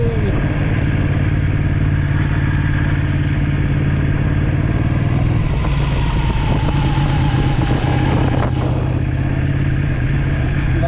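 A motorbike engine drones loud and close and holds a steady, rumbling tone on a ride out near Barmouth in Wales. Wind rush swells in the middle of the run.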